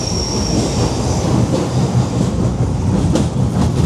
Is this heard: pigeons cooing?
no